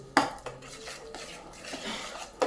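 A spoon scrapes and clinks against a pan as blended green vegetables are mixed into roasted masala for green pav bhaji, a sharp knock at the start and a few softer scrapes after, close and fairly quiet, with no talking.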